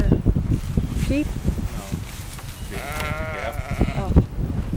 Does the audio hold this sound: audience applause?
no